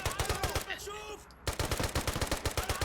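Rapid automatic gunfire bursts from behind a shop counter in the tactical game Door Kickers 2, sharp evenly spaced shots in two loud volleys split by a brief pause.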